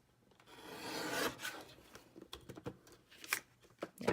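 A paper border is trimmed by hand in quick, soft scraping cuts, a faint close rasp in irregular short strokes.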